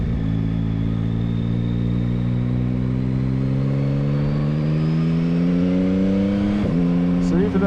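A 2022 Yamaha MT-09 naked triple motorcycle revs loudly and up close, its engine note climbing steadily before a quick-shifter change cuts in and drops the pitch.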